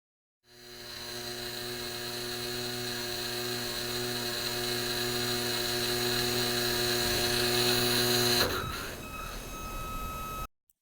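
Small electric motor under a PI speed controller spins up to a steady whine with strong harmonic hum, then cuts off sharply near the end as the setpoint drops to zero, leaving faint residual noise.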